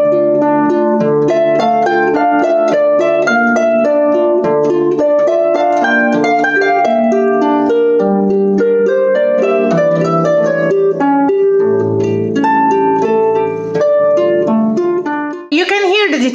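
A harp plays a passage exactly as written rather than legato, giving a busy run of detached, plucked notes that ring one after another for about sixteen seconds, heard alone without talking.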